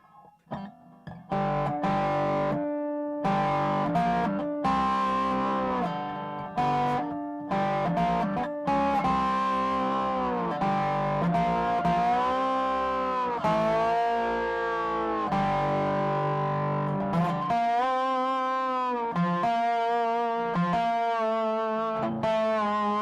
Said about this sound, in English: now I'm going to crank in a fair amount of distortion.